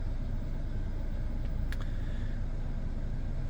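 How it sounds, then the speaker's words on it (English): A 2018 Kia Picanto X-Line with a 1.2-litre four-cylinder petrol engine runs as a steady, close low rumble, with a couple of brief high chime tones partway through. "So if I start the car up, it'll shout at me because the door's open"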